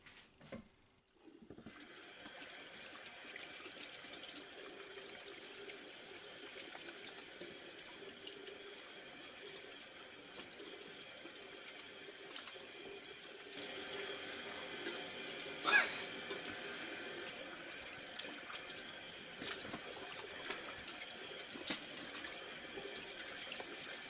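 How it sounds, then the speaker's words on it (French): Water running steadily from a tap during a morning hair wash in a home bathroom, a constant close hiss that swells slightly midway with a few splashes, no talking. "là, je vais me laver la tête"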